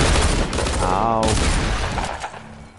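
Loud, dense gunfire in a Fortnite match, a rapid cluster of shots filling most of the stretch, with a voice speaking briefly over the shooting.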